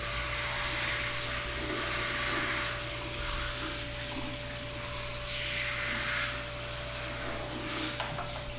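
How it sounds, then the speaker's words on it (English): Water runs steadily over a lace wig being rinsed, a constant broadband rushing hiss with no pauses and no talking. "Now you want to rinse the wig really good."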